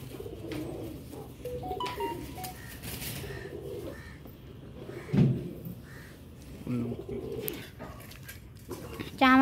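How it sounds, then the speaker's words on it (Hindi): Pigeons cooing at a feeding spot, soft low coos scattered among light rustling and a few other bird calls, fairly quiet and close. "हम लोगों ने देखे फिर से कबूतर कितने हो गए"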